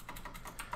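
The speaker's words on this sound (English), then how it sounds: "There's no real point in me typing this, but, you know, test." Quick, faint keystrokes on a computer keyboard, a short run of close, light clicks with no talking.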